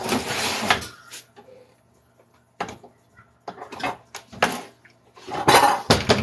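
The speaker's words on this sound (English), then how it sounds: "He can literally wait while I empty the dishwasher." Dishes, pots and cutlery clink and clatter in bursts as a dishwasher is emptied, loud sharp knocks separated by quiet pauses, close by.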